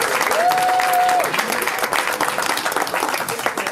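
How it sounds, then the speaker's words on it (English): Sustained applause from a crowd, steady dense clapping filling the space throughout, with a brief tonal whistle early on. "can I have a big round of applause"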